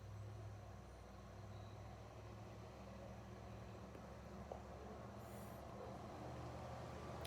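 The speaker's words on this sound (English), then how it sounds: "Car going by." A car passes on a quiet, overcast day, heard as a steady low broadband road rumble that holds for several seconds with no clear peak, distant and fairly faint, with no voices.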